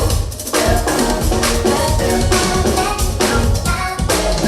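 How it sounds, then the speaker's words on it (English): A drummer plays a frantic live drum pattern, dense and loud with busy snare and cymbal hits over heavy low end, sounding raw and unmixed. "And then he does this fucking insane drum bit."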